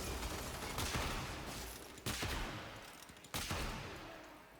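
Three heavy Ferrox weapon shots in the Warframe video game, each a loud booming blast followed by a long decaying roar, spaced roughly a second and a quarter apart.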